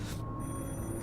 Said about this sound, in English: The phone's still ringing.